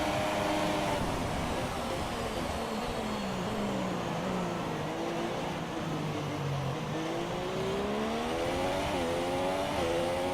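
An F1 car engine in the F1 2017 video game, racing at Italy, holds a steady high whine that drops and climbs through gear shifts, continuous and close with no voices over it.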